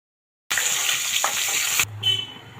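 Fish frying in hot oil for a Bengali fish curry with raw banana, a steady loud sizzle that cuts off partway, leaving quieter kitchen clatter and a low hum.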